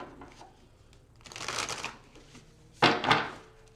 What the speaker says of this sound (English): let's go ahead and pull that Oracle card